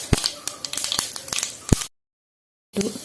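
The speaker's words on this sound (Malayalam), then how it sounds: "കടുക് പൊട്ടി ഉലുവ ഇടാം," Mustard seeds spluttering in hot oil in a home kitchen, dense rapid crackles and sharp pops close up, then abrupt silence before the sound returns briefly.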